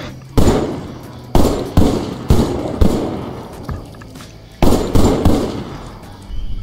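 Loud gunshots ring out in the virtual-reality shooter Killing Floor VR, a run of sharp, booming blasts with short echoing tails, fired in irregular bursts of single shots and quick doubles.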